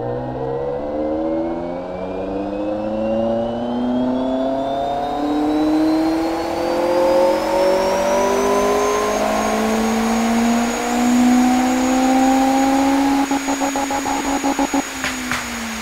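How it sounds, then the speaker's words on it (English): A 3700bhp car engine in a video game revs up during a test, a loud whining roar climbing steadily in pitch over several seconds, then rattling and stuttering near the end. "Okay, now that was the engine test."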